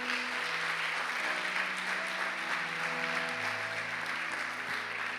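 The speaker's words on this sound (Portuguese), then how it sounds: "Você pode dar um aplauso a Jesus por isso?" A church congregation claps steadily throughout, with sustained organ or keyboard tones under the clapping and no one speaking.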